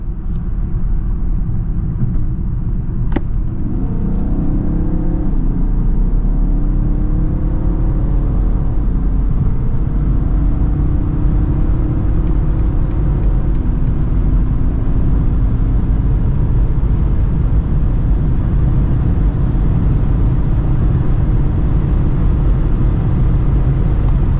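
A 2022 BMW 730d's engine and road rumble build steadily as it accelerates from 100 to 200 km/h, a loud, continuous whir and drone with rising tones, no voices.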